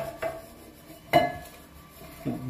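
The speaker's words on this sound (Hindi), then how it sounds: "दबा के एकदम धो रही है बर्तन ढेर सारा" Dishes and pots being scrubbed and washed by hand in a home kitchen, with three distinct clattering knocks of utensils against metal pans standing out over a quiet background.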